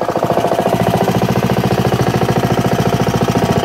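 A 2014 Honda HR-X lawn mower engine runs loud and close, with a fast, even, throbbing pulse that holds steady for the whole stretch without any talk.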